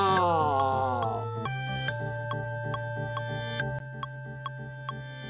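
Resampled electronic music processed through Maul, a three-band distortion effect, gives a buzzy, harmonically dense tone that sweeps down at first, then settles into sustained layered pitches with regular ticking pulses, loud and continuous without any voice.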